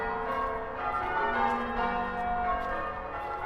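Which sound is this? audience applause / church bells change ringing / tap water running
church bells change ringing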